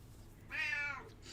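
A single short cat meow, close and fairly faint, rising then falling over about half a second against a quiet indoor room with a heater running, followed by a softer trailing chirp.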